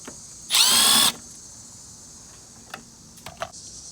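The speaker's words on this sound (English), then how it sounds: "use your Phillips head attachment or your Phillips head screwdriver, and there are two screws that you have to unscrew" A power drill with a Phillips head attachment whirs once for about half a second while unscrewing a screw on a mower's trail shield, close and loud, followed by a few faint clicks and taps.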